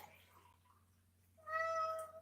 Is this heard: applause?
no